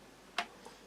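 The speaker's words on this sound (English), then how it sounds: "just using the knife to help agitate it" A knife clinks once sharply against a mug while stirring tea and sugar, followed by a fainter second tap, brief and close in a quiet setting.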